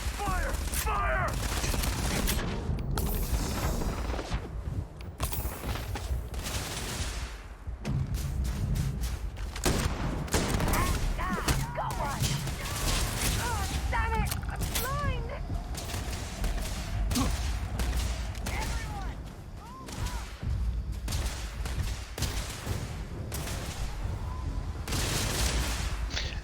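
Rapid bursts of gunfire with thumps and booms in Starfield, played on the very hard setting on Xbox Series X, running dense and loud throughout with a voice talking over the shooting.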